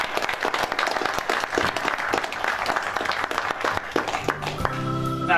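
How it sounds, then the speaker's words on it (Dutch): A crowd gives warm applause as a guest is welcomed, steady clapping that carries on until music enters with sustained tones toward the end. "Dames en heren, mag ik een warm applaus voor Jan Roos?"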